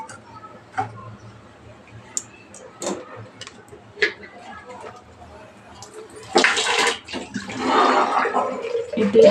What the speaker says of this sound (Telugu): మనం దీంట్లో టీ పోసుకోవాలి